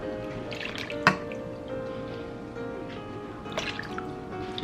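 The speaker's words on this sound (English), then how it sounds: "I guess it's really just whatever amount of water I need to get the contents rinsed out" Water sloshed around inside a can to rinse out its contents in a home kitchen, with wet swishing and dripping, one sharp clink near the start, close and moderately loud.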